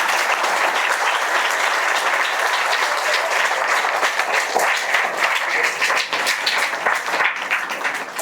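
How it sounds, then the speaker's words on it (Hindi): Audience applause at a school student welcome, a dense, steady wash of many hands clapping throughout, loud and sustained. "अब तुमने तालियां बजाई दी हैं तो एक बार ढंग से बजाते हैं।"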